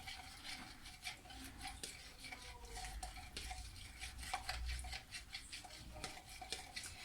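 Spoon stirring a salted rice seasoning for homemade sushi rice, one spoonful of salt per cup of rice, with steady scraping and light clinking against the bowl, close by, throughout, with no voices.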